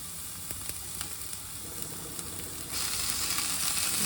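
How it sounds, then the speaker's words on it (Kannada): Amaranth greens stirred into onions frying in a pan, with a steady close sizzle that swells louder partway through as the leaves hit the hot oil, and no talking. "ಈಗ ಸೊಪ್ಪನ್ನು ಹಚ್ಚಿಟ್ಟಿದ್ದೀನಲ್ಲ, ಅದನ್ನು ಮಿಕ್ಸ್ ಮಾಡ್ಕೊಳ್ಳೋಣ."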